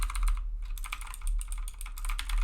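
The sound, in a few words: typing on a 60% computer keyboard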